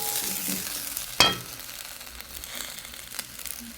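Vegetables cooking in a pot, stirred with a spoon: scraping, sizzling stir sounds, one sharp clank of utensil against the pot, then quieter bubbling and shuffling.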